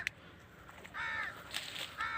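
Crow cawing on a village morning, a few harsh calls rising out of a quiet rural background, with louder caws near the end.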